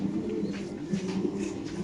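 A silver Lahori pigeon coos steadily up close, with low, throaty, rolling calls that repeat without pause.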